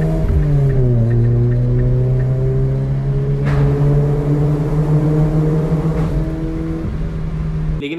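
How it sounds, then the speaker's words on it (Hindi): A car engine roars loudly through a badly worn, damaged exhaust, holding a thick, rough drone that dips and swells slightly over several seconds, close up with no speech. "इतना शोर नहीं करती थी मेरी गाड़ी।"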